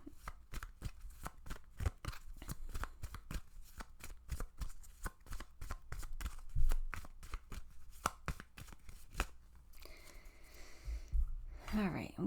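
Tarot cards being shuffled by hand, a rapid series of crisp riffling flicks and slaps in quick bursts, close and fairly quiet, with a softer rustle near the end.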